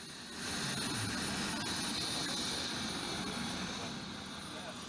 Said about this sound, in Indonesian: waterbombing menggunakan helikopter.